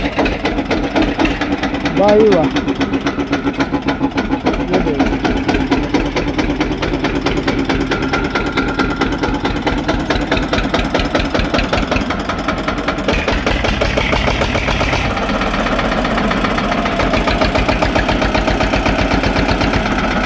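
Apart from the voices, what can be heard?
tractor engine starting and idling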